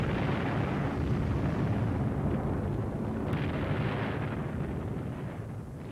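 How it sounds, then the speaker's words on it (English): Bombs exploding in a London air raid in 1940, a continuous heavy rumbling roar of blasts, loud and close, with no voices. "Bombs are also falling on the centre of government."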